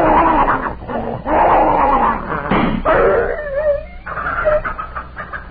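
A wounded dog in a radio drama growls, whines and howls in pain, a loud, close, strained voice with rising and falling wails over a low background hum.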